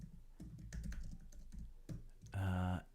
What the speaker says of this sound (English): I can put this up so you don't hear the typing.